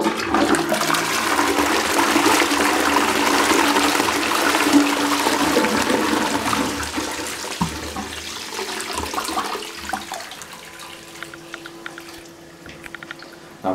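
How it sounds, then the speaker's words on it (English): Powerful flush from an Armitage Shanks Sandringham Universal toilet, a strong close rush of water that gradually fades into trickling and gurgling refill noises, with no talking. "Now that is a very powerful flush."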